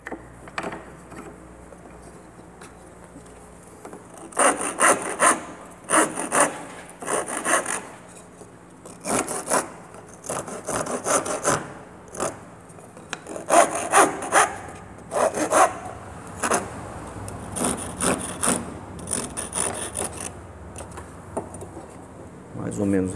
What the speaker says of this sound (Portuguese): Vamos dar uma arredondada com a grosa.